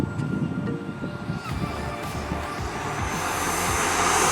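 A Dynam Meteor V3 RC airplane spools up for takeoff on its maiden flight, its electric motor whine rising steadily to a loud, sustained high-pitched buzz near the microphone, with no talk.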